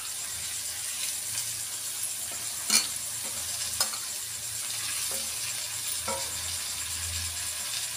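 Carrot and potato pieces fry in a generous amount of oil, a steady soft sizzle with occasional clicks and scrapes of stirring.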